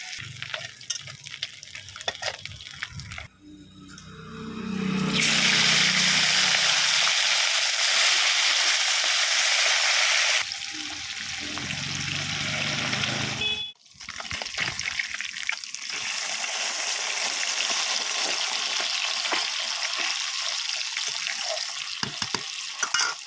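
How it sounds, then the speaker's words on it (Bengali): Oil sizzles loudly and steadily in a large cooking pot, frying without onion while cooking for about fifty people, with occasional stirring scrapes and brief pauses in the hiss. "কিন্তু পেঁয়াজ দিইনি শুধুই ভাজছি"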